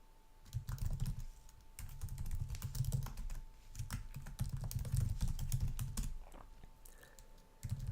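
Steady clicking of typing on a computer keyboard while entering an email address, with bursts of keystrokes in quick rhythm and brief pauses, close and moderately loud, with no talking.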